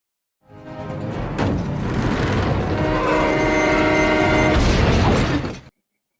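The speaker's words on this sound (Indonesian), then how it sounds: "Kereta makin mendekat dan Ray pun pasrah dengan keadaan" A train in the film Hancock draws closer with a loud, steady rumble of wheels and cars that builds over several seconds, a horn-like tone sounding near the end before it cuts off abruptly, with no voices.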